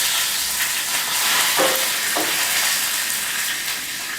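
Cumin, garlic and curry leaves hit hot oil for tempering spinach curry, giving a steady close sizzle with a few brief crackling bursts over continuous frying hiss.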